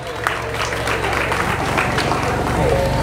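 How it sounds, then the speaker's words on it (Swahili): Crowd at a school ceremony in Tanzania breaking into clapping and ululation, a steady wash of applause and cheering voices with some talk mixed in. "Makofi na vigelegele"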